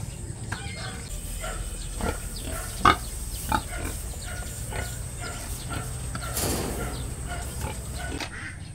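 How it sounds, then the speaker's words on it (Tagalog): A pregnant sow in a pen bedded with rice hulls gives soft, repeated low grunts at close range, with rustling and shuffling around her and a couple of sharper knocks. "Malapit na mga anak itong ating alagang baboy, itong si Addison."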